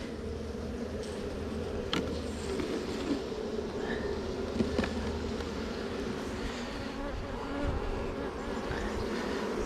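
Honeybees from a hive with swarm cells and a drone-laying queen, a steady close buzzing drone that holds unbroken throughout with faint clicks of handling, no voices.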